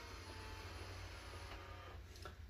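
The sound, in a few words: robot vacuum leaving its self-washing base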